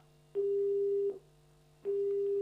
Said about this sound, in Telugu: ఫోన్ కాల్ కట్ అయిందండి.